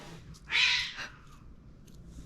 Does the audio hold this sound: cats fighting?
yes